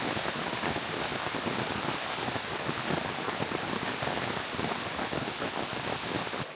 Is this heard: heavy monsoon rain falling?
yes